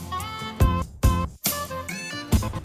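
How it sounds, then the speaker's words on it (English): Chopped saxophone samples with shifted octaves in a lo-fi track, heard as short harmonic horn phrases that cut off abruptly and restart, layered over a warm beat with thumping low end. "But then I start chopping up the saxophone again"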